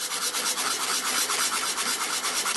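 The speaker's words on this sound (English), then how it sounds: "same technique with the sandpaper." Sandpaper roughing up a patch of tarp fabric, a steady close-up rasping rub in quick repeated strokes that keeps going without pause and with no talking.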